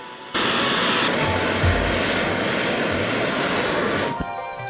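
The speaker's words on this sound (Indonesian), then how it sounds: "Kita nyalakan kompor. Dan panaskan, terus berputar agar jagung dalamnya terus bercampur dan dihangatkan secara merata." Gas stove burner roaring under a rotating Korean popcorn cannon being heated at a street food stall, a loud steady rushing blast that starts abruptly, holds for several seconds, then cuts back near the end.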